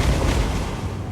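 A deep booming blast of artillery firing fireballs in a Total War Warhammer battle, a single broad loud burst that rolls and fades quickly.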